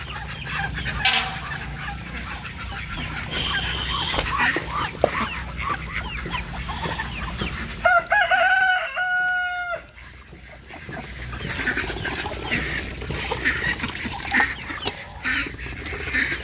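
Chicks and hens cluck and peep on a farm, a busy mix of close, overlapping calls with a few louder squawks, steady throughout with a brief quieter stretch partway.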